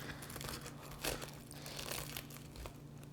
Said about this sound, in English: you're going to want to use a nice big sharp knife to cut that in half